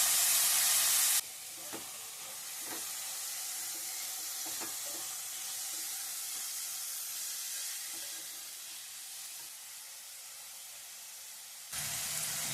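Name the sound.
vegetables sautéing in a pan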